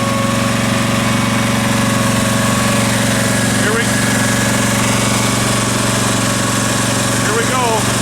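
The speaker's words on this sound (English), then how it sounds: "I think I'll start it out at low RPMs in case that belt snaps right away or something else gives." A Case 446 garden tractor's engine runs steadily at low RPM while driving a mounted Bercomac attachment, giving a continuous loud drone with a constant low hum and no break throughout.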